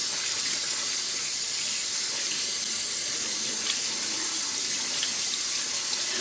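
Cold tap water runs steadily through a fine mesh strainer while rice is rinsed in a kitchen sink, a continuous close hiss and splash with no pauses.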